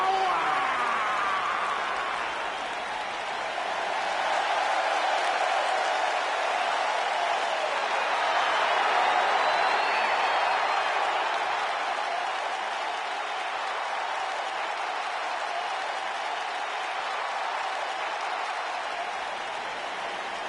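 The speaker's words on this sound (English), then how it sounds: "Clap for your longest reigning tag champs and feel the power!" An arena audience at a WWE wrestling event applauds the tag team champions, steady dense clapping sustained loudly for about twenty seconds with faint crowd murmur underneath.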